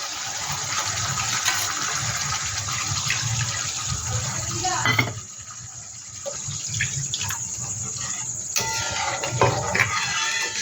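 Water pours from a rinsed yogurt bowl into a pan of cooked-down egg kopta curry masala, a steady splashing gush with a brief pause midway, close and fairly loud with no talk over it.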